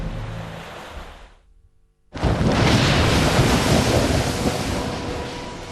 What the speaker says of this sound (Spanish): Más olas de 6 metros estaban aproximándose rápidamente.